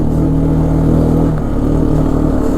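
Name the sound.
2001 Arctic Cat 400 4x4 ATV engine accelerating in third gear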